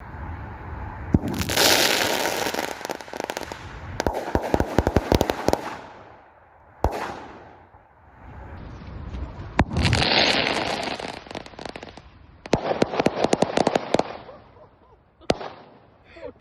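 Fireworks modified as weapons crackle in dense, loud bursts of rapid pops, broken by sharper single bangs, swelling and fading several times over the stretch.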